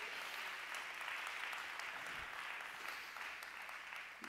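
A church congregation at Sunday worship claps their hands, a continuous wash of many hands heard faint and distant at a low level.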